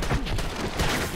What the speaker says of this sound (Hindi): मेरे पीछे से कोई गोलियां चलाई जा रहे हैं